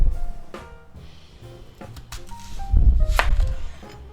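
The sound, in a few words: knife chopping green onion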